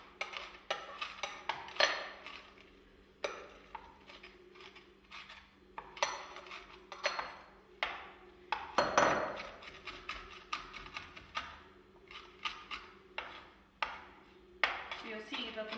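Peppermint Crisp chocolate chopped finely with a big knife: rapid, irregular clatter of blade strikes on a board in dense bursts, close and fairly quiet, with a louder knock near the middle.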